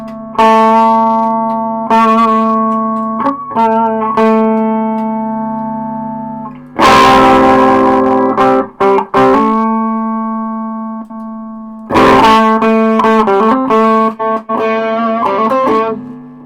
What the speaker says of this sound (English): And then we've got the distortion channel.